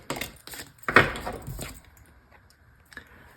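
Tarot cards shuffled by hand, a few quick papery riffles and slides in bursts, then quieter soft card handling, close up with no talking.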